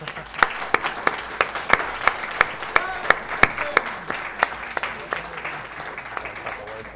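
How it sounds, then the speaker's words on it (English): A small group on and around a couch at the AGDQ 2017 speedrun marathon claps in a scattered round of applause, with sharp individual claps standing out and voices talking over it. "perhaps a round of applause from the handsome people on and around the couch"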